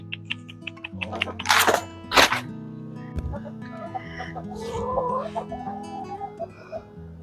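Hens cluck and chatter near the microphone, with a few sharper squawks in between and a rooster-like call partway through.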